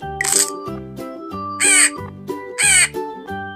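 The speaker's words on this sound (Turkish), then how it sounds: "Karga. Karga." A crow caws three times in an evenly spaced series, each call loud and harsh, over a steady background of bright repeating music.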